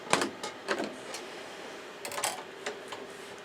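Embroidery machine stitching a zipper onto an in-the-hoop boxed bag, a quiet run of light irregular ticks and taps with a couple of sharper clicks, no voices.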